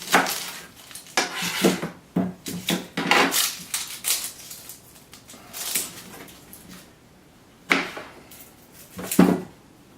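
A knife slicing through an onion on a cutting board while making a Mediterranean-style pizza: a series of crisp, close chopping knocks at an irregular rhythm, with a few sharper thuds and short pauses between cuts.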